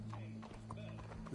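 Horse hooves clip-clop in a video game, a short rhythmic run of hoofbeats over a steady low hum, with no talk.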